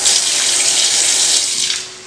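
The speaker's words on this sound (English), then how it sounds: "I'm gonna add a little bit of water in this." Water runs steadily from a tap into a pan of browning ground turkey, a loud, close, continuous gushing hiss that tapers off at the end.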